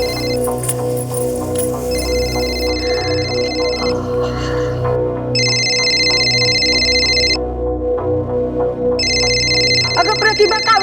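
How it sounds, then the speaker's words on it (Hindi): A mobile phone rings in a home, repeating electronic ringtone bursts in regular pulses over background music and tones, loud and close, with a brief voice near the end. "बघा कुणाचा फोन आहे."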